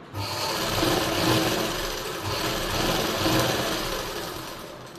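A sewing machine stitches the lining of a blouse in a steady, close whirring run with two slight swells, alone without talk.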